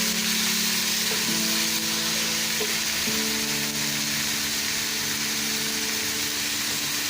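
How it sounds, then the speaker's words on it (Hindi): Minced beef, about 250 grams, fries loudly with light-brown onions in a pan for beef patties. A dense, continuous sizzle holds steady throughout, with a faint humming tone underneath. "प्याज हमारी लाइट ब्राउन हो गई है। इसके अंदर हम कीमा डालते हैं।"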